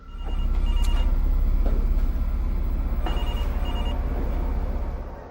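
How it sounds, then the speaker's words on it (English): A telephone rings in an empty backrooms maze, with repeated bright electronic trills over a constant low droning hum that fills the whole stretch. "He then starts hearing a phone ringing."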